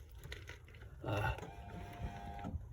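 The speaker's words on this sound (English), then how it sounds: "the motor's working, but the step isn't working" A motorhome's electric step motor whirs briefly for about a second and a half, a close mechanical hum with faint clicks, while the step itself fails to move.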